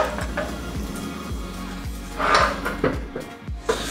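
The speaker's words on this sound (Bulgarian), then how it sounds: "заедно с малките филигранни чекмедженца, които се изваждат" Small decorative wooden drawers in a Provence-style kitchen being pulled out and pushed back, a regular series of close sliding thumps and knocks.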